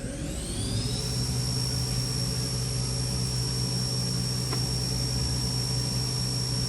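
A 2008 Haas VF-1 CNC vertical machining center, 20 horsepower, whose spindle spins up to its 7,500 RPM top speed with a steady, high-pitched whine over a constant hum, close and alone.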